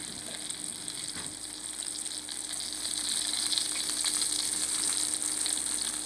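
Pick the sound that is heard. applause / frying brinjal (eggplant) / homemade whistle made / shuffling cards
frying brinjal (eggplant)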